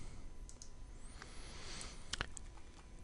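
A computer mouse gives a few quick, faint clicks, with one cluster of sharper taps near the end, against a quiet room.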